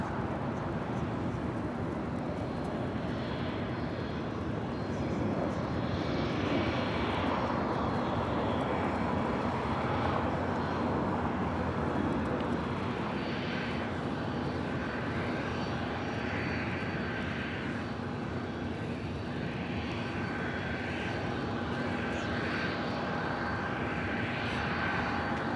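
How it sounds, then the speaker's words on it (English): A Boeing 777-200ER in oneworld livery on short final to land on runway 24 right at Los Angeles airport, its engines a steady, fairly distant broadband roar that swells and holds, with a faint whine running through it. "We have a 777 short final for 24 right."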